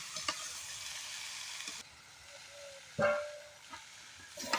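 Spices and chili powder sizzle and crackle in a hot pot for vegetable khichuri, with occasional scraping stir strokes and a clank; the frying quiets a bit midway, then continues.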